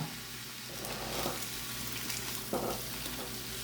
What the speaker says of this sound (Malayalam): ഇനി അതിൽ നമുക്ക് ആ സോയാ ചങ്ക് അത് ചേർക്കാം ഉപ്പും ചേർത്ത് കൊടുക്കാം